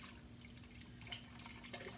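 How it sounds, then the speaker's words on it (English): Raw milk cream is poured into a Ninja blender, giving a faint, soft trickling and dribbling with a few small drips, close by and without talk. "So we're going to go ahead and pour our cream."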